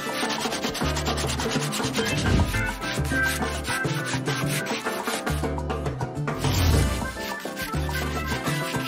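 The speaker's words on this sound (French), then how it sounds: "Ensuite, nous allons les poncer." Shoes are sanded by hand after being cleaned with acetone, giving a steady, fairly loud rubbing and scraping in repeated back-and-forth strokes with brief pauses between passes.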